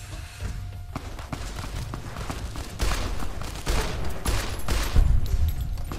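Bursts of gunfire ring out in Fallout: New Vegas, a scattered series of sharp cracks and thumps that grow louder and denser toward the end, with no talking.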